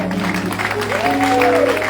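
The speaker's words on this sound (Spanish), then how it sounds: "Come on, clap your hands" Congregation clapping hands for God at a church conference, a bilingual English-Spanish service: busy massed clapping under a sustained voice or musical tone rising and holding, moderately loud throughout.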